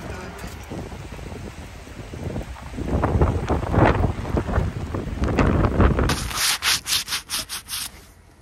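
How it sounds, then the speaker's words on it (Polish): Heavy rain pours down outdoors in Magdeburg, a dense, steady hiss of drops close to the microphone that swells louder partway through, mixed with rough wind buffeting. "Tak strasznie pada."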